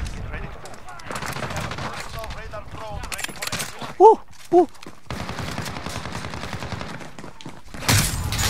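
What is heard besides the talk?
gunfire in video game Call of Duty Modern Warfare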